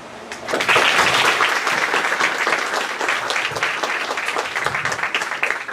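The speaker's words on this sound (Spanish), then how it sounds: "Y yo pido un aplauso de San Marcos para ellos" Audience applause at a university event in Peru, sustained and steady from a crowd throughout, loud and dense without pause.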